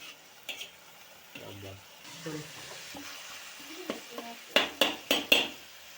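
Masala spices roasting slowly over low heat in a pan for a spiced okra and yogurt curry, with soft stirring scrapes and a few sharp metallic clinks of a utensil against the pan near the end.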